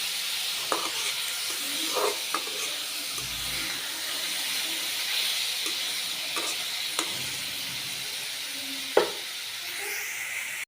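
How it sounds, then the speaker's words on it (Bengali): Hilsa fish fry in hot oil, a steady soft sizzle broken by a few sharp pops and scrapes of stirring, with no voices. "এখন আমি মাছটা ভেজে নিব"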